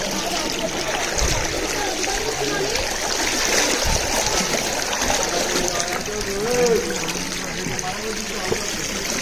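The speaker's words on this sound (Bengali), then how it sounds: "দেখেন কি পানি, কেন পানির স্রোত বেশি, এদিকে নলিমলি উঠে গেছে।" Strong water current rushing through a flooded village area, a continuous nearby gush and trickle with occasional splashes, while a person talks over it.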